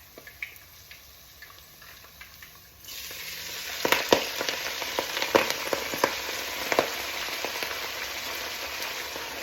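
Onions fry in a pan with a continuous bright sizzle that rises sharply partway through, broken by frequent small pops and crackles.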